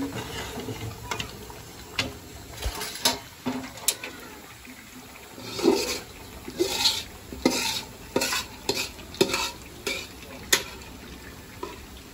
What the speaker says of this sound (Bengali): এই যে আমি নাইড়া দিলাম